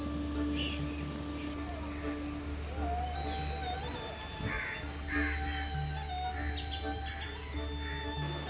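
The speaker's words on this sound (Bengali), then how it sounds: "তার সাথে আছে অসংখ্য পাখির কিচিরমিচির।" Crows caw repeatedly beside a tree-lined lakeside path at Rabindra Sarobar in south Kolkata, harsh calls near and far, layered with thinner chirps and tweets of smaller birds over a steady outdoor hum.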